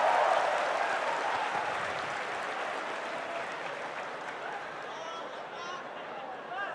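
An audience applauds at an Islamic question-and-answer lecture, a dense, loud wash of clapping that tapers slowly over several seconds.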